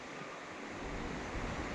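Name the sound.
sea waves on Dahanu beach, Maharashtra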